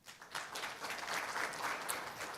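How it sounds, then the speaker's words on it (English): An audience at a spectrum management forum applauds to welcome a presenter to the stage, giving a steady wash of clapping throughout this short moment with no voices on top. "Please welcome him with a big round of applause."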